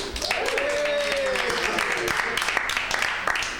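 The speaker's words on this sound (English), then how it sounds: "You can clap at him." At a New York stand-up comedy club, the audience breaks into clapping and whoops that hold steady at moderate volume, with a voice audible over the applause.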